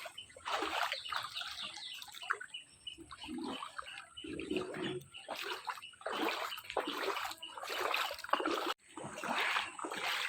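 Feet wade and splash through standing floodwater that has not receded, giving repeated close sloshing bursts in an uneven rhythm with brief pauses between steps.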